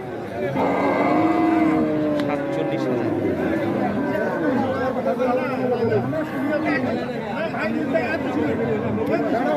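A cow lets out a deep, drawn-out moo amid steady crowd chatter and nearby voices talking at a busy outdoor cattle market in Bodahat, Panchagarh.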